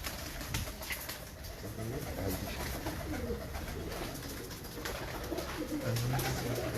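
Teddy pigeons coo softly and continuously in a loft, low murmuring calls layered over a busy background hiss, with occasional faint speech.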